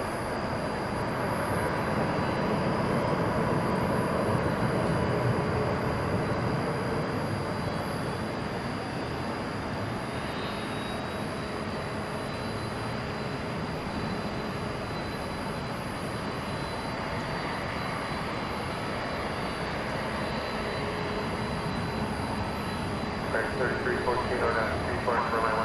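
An airliner arrives at DFW Airport at night: a steady, moderately faint jet roar spreads across the whole clip, with a thin high whine riding on top.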